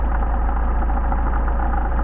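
A Mercedes 190SL engine with Solex carburetors idles steadily after carburetor adjustment, a continuous low, even rumble that stays loud and close with no talk over it.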